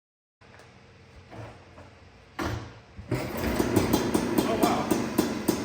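A Honda PA50 moped engine on a new carburetor cranks and catches, a low rattling idle building into a louder, steady buzzing run.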